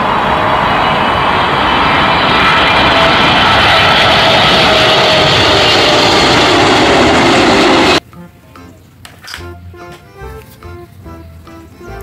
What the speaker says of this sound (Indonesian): Pesawat terbang.